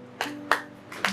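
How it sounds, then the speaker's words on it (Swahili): A congregation at a Swahili church service claps for the Lord Jesus, three or four sharp, separate hand claps spaced widely apart over a low steady hum. "Mpigie Bwana Yesu makofi."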